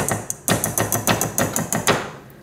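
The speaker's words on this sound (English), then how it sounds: "So I like to use a metal whisk." A metal whisk clinks rapidly against a bowl while stirring a cauliflower pizza mixture, about a dozen bright, evenly spaced taps, close and fairly loud with no talking.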